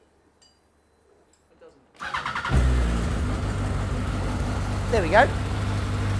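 A Yamaha R1 engine fitted in an RX5 MC kit car, sitting in neutral, cranks and catches after a quiet lead-in, then settles into a loud, steady idle with a brief rise in revs, while someone speaks over it.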